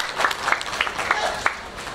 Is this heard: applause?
yes